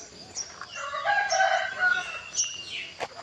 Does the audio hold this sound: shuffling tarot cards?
no